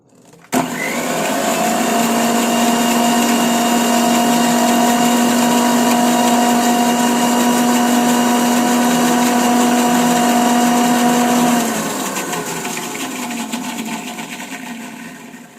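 An electric kitchen mixer grinds flower petals with a little milk in a loud, steady motor whine and whir that runs for about eleven seconds, then spins down and fades as the blades slow.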